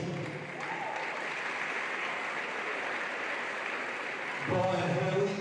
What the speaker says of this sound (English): a round of applause for Adrian McCormick